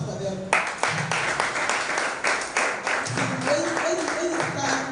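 A seated audience at a creative writers and readers bootcamp claps in a moderate, uneven burst of applause, with a voice talking over the clapping.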